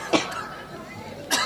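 Two short coughs ring out at a lively stage show with a crowd, one near the start and one near the end, close and clear over a background murmur.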